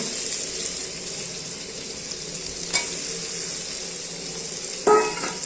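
Fried potatoes stirred into a hot sizzling pan for a Kashmiri-style rohu fish curry, a continuous hiss broken by a quiet scrape and a louder clatter near the end.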